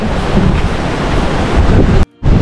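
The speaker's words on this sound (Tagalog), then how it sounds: "medyo malakas yung dagat ngayon" Loud, roaring surf and rushing wind fill the air continuously, a rough sea heard up close from a Philippine shoreline, cutting off abruptly for a moment near the end.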